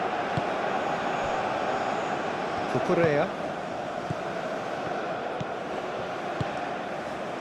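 A stadium crowd in the football video game PES 2021, during a France vs Spain match, keeps up a steady, broad roar while a commentator talks over it.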